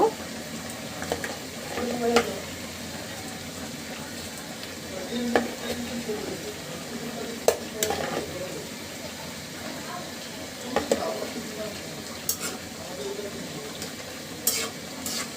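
Pieces of hilsa fish fry in a hot pan for a dish with taro and coriander leaves, giving a steady close sizzle with occasional stirring scrapes and clinks, with a voice speaking at times.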